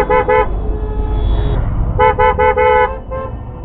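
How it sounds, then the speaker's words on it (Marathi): Vehicles on a mountain ghat road sound repeated loud car horn toots in short bursts, with engine rumble beneath. "आणि बघा गाड्या इथून कशा येतात, त्या क्रॉस गाड्या येतात वरती येणाऱ्या गाड्या"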